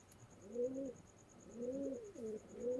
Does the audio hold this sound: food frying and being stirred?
no